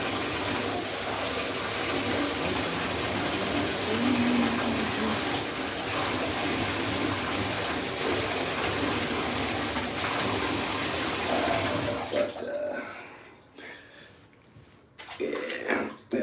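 Water gushes steadily from a tap into a bubble bath, a constant rushing fill that stops near the end, followed by quieter splashes and faint bathroom noises.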